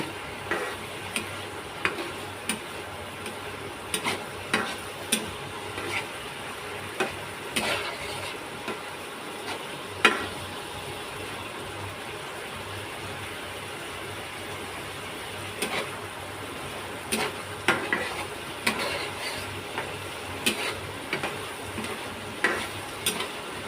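Beef tripe and potatoes frying in a pan give a continuous moderate sizzle, with a utensil stirring and scraping through it in repeated sharp clicks and knocks.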